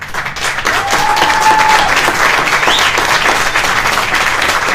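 A book launch audience breaks into sustained, dense applause, loud and even for the full length, with a brief whistle-like tone rising through the clapping.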